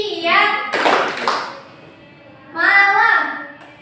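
Children in a classroom clap together in a short patterned hand-clap game, with a burst of claps between stretches of a voice and children's chanting.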